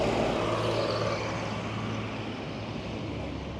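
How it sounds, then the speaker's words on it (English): A bus rumbles past along a road, a steady broadband traffic roar that slowly fades a little over several seconds, with no talking. "Let me just wait for this bus to go past."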